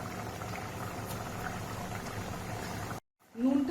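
Chicken bharta mixture boiling in a pan gives a steady, soft bubbling hiss that cuts off abruptly near the end.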